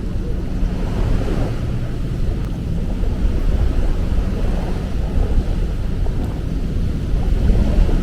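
Sea waves wash continuously onto an Australian shore on a hot day, a steady broadband roar with wind buffeting the microphone, no voices.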